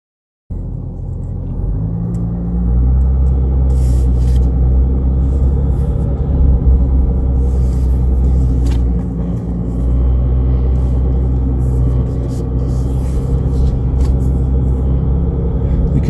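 A car driving off-road with an axle difflock engaged, producing a loud, continuous low engine rumble and drivetrain drone that stays steady throughout, close to the listener, with no talking.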